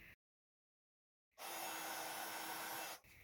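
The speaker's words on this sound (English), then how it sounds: "I'm going to heat emboss that in gold embossing powder" A heat gun blows gold embossing powder on a birthday card. It starts after a moment of silence and runs as a steady, loud airy whoosh for about one and a half seconds, then cuts off.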